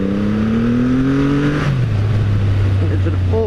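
A Triumph Rocket 3 motorcycle engine on a country lane, heard steady and loud from the rider's seat, its low droning note dropping in pitch as the revs settle.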